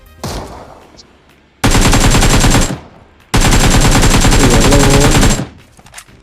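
Loud, dense bursts of automatic gunfire from the mobile battle royale game PUBG Mobile, two long sustained volleys after a quieter opening, close and overwhelming.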